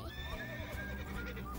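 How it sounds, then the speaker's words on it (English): A horse whinnies in a rising, wavering call with shaky harmonics, close and fairly loud, lasting just over a second. "A horse makes this sound."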